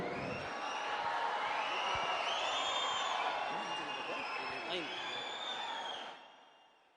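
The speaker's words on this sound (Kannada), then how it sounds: "ಜೋರಾದ ಚಪ್ಪಾಳೆ ಬರಲಿ." Loud, dense crowd noise from an audience at an outdoor political stage event in Kanakapura with D.K. Suresh and D.K. Shivakumar on stage, sustained for about six seconds before fading. It has the texture of clapping and cheering, with scattered shouts mixed in.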